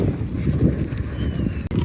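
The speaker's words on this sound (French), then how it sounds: "Là, il y a les gens qui font du cheval." Horses walking on a hiking trail, steady clip-clop of hooves close by, with faint voices in the background.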